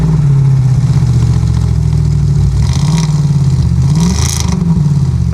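An Audi RS5 engine runs at a deep, loud idle close by, its steady rumble rising in a couple of short revs.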